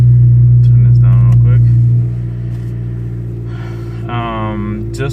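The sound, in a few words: Toyota Corolla XRS engine revving high on cold start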